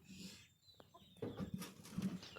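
Chickens clucking inside a coop during a morning egg check, several short low clucks and soft calls close by, rising in a loose, irregular burst after a quiet start.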